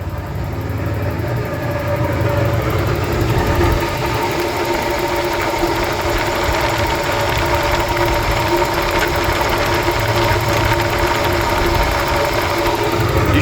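Ford Bronco II engine idling with a bad bearing in the middle front pulley, a loud steady close drone with a constant whirring, knocking undertone that holds without change.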